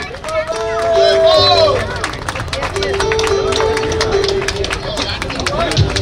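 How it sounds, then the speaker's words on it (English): Spectators at a high school inter-batch football tournament applaud the runners-up with loose, crowd-wide clapping, mixed with shouting, chanting voices and excited chatter throughout. "A huge round of applause for the batch of 1989"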